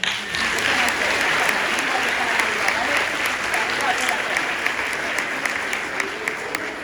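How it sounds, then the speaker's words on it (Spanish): A school audience applauds fourth grade primary pupils after their Christmas song performance, a dense sustained wash of many hands clapping loudly for several seconds and easing slightly toward the end. "Un fuerte aplauso para ellos"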